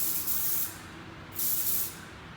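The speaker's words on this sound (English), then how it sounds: "we're going to spray some hairspray" Two hissing bursts of hairspray from an aerosol can, sprayed onto teased hair for a ballet bun, each lasting about half a second over a low steady background hum, close and moderately quiet.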